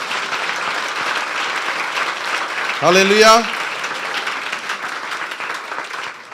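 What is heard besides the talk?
applause for the glory of God in a church service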